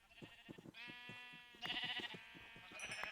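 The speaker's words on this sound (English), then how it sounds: "they breed these sheep, and they breed these sheep, but they never ever ever kill them" Sheep in the Minecraft FTB video game bleat over and over, several overlapping calls close together with a steady rhythm of clicks and footsteps underneath.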